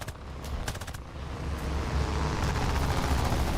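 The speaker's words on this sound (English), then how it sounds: "Are 2 Vickers machine guns going to be enough for this guy?" Two Vickers machine guns firing from an MBR-2 flying boat in a combat flight video game, heard as a rapid rattling burst over a constant engine drone, starting sporadically then building into sustained fire, with no talk.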